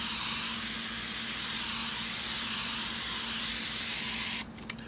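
Water sprayed onto a Torqeedo Ultralight 403 outboard motor, a loud continuous hiss of spray close by that cuts off abruptly just before the end.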